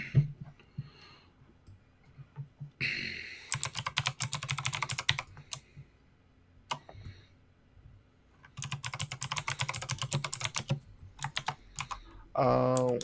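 Rapid bursts of computer keyboard typing, close and crisp, come in two long runs with pauses between them, while quieter low sounds sit underneath.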